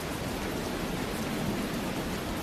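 Steady rain pours down in the video game Tales of Berseria, a dense, even hiss that holds at one level throughout with no voices over it.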